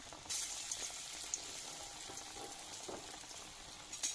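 Onion fritters (peyaji) frying in oil give off a faint, steady bubbling sizzle. A few soft clinks and light splashes sound over it, all quiet and somewhat distant.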